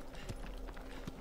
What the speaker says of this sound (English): Ogro is worse than Skyrim horse